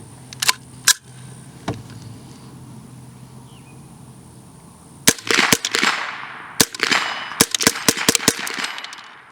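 A CMMG .22LR AR15 rifle fires a few widely spaced sharp cracks, then a quicker string of shots with metallic ringing and echo, loud and close.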